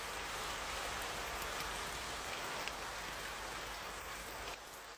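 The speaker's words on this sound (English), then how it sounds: "It's raining outside, and it will definitely get colder at night." Rain falls steadily outside, a soft, even hiss of drops that holds at a constant faint level throughout and dips slightly at the very end.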